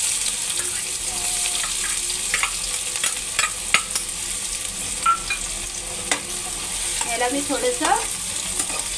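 Cumin seeds and chopped onion fry in hot oil with a steady, moderate sizzle, punctuated by scattered clinks and stirring scrapes. Someone speaks briefly over the cooking.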